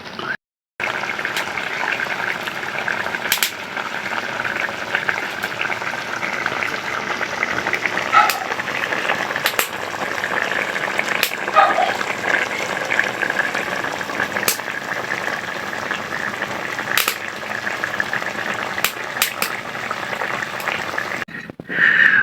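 Ginataang tilapia, tilapia stewing in coconut milk, bubbles in a pot with a steady soft simmering hiss and crackle, continuous and close, in a rural home kitchen.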